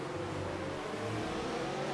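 Formula 1 race car engine in F1 2019 at the French Grand Prix, a steady high-pitched whine held continuously without a break, close and fairly loud with no voices.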